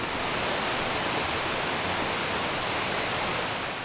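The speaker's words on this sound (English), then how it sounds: "It's to a waterfall. It's called Fletcher Falls." Fletcher Falls, a waterfall in Canada reached by a short trail walk, roars as a steady broadband rush of falling water with no pauses, loud and close.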